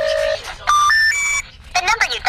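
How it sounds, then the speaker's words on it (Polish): Electronic Motorola phone beeps ring out in a nightcore rap track, a quick run of bright tonal bleeps at shifting pitches with short gaps, loud and up front over a faint beat. "Dźwięki z Motorola,"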